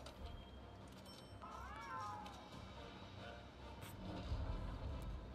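A house cat gives a single clear, rising-and-falling meow close by, set against a low background hum and faint game sounds.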